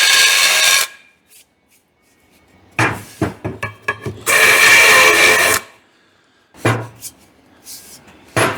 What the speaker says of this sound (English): We'll chamfer the hole a little bit, both sides.